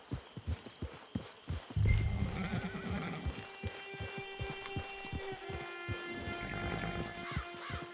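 A horse in the video game Red Dead Online clip-clops with steady hoofbeats on the ground, then gives a loud, drawn-out neigh partway through, close and clear over faint ambient background.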